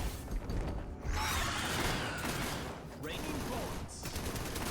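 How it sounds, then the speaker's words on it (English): Shotgun fire from the action video game Punishing: Gray Raven during a Devil May Cry crossover fight: loud, dense blasts and whooshing combat noise fill the whole stretch, with sharper bursts near the start and end. "give the Close her boomstick. Close like shotguns, baby"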